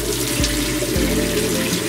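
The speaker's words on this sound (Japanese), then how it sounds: "髪を濡らしていきます。" Water runs steadily from a tap while hair is wetted, a close, constant splashing rush with no speech.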